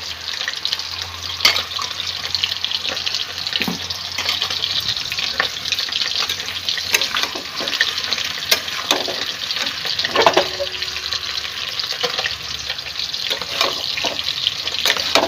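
Malabar spinach with turmeric fries and is stirred in a pan, giving a steady sizzle for the whole stretch, with scraping stir strokes and occasional clinks.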